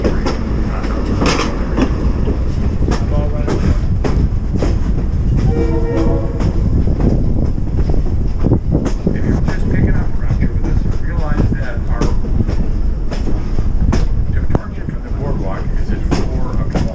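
A passenger train rolls on rails from Felton to Santa Cruz, with a steady rumble and clickety-clack throughout, a horn-like tone sounding partway through, and voices murmuring in the background.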